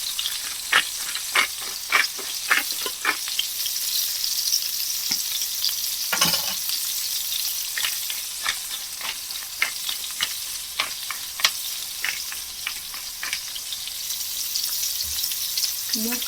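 Salmon frying in a pan, a steady close sizzle with scattered pops and spits running throughout, punctuated by occasional clinks of cooking.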